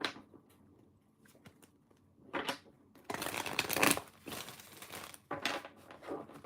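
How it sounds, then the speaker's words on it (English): A deck of tarot cards is shuffled by hand in bursts of riffling and rapid flicking, close and crisp, with short pauses between passes and no talking. "That was a good shuffle."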